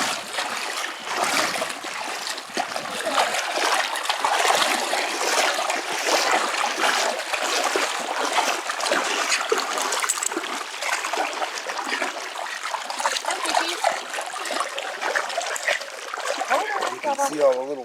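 A dog splashing through a cool Michigan river, a steady close wash of churning water and spray running the whole time with a voice speaking intermittently over it.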